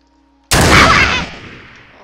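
A single loud gunshot from a firearm in the PC game Mount & Blade: Warband, a sharp blast at the start that rings out and decays over about a second and a half.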